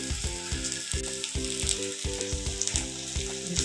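A potato sandwich sizzles loudly in a spoonful of oil on a hot tawa griddle, a constant close crackling hiss with no talking over it.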